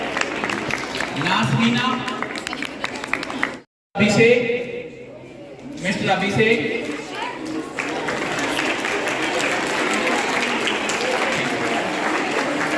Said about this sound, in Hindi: आप सभी इतने सुंदर फोटो को देख रहे हैं, तालियां बजाएं।